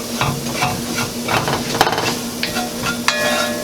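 Chili powder sizzling in oil with onions while being stirred for chili, a loud close hiss with repeated scraping strokes and a couple of sharp knocks against the pan.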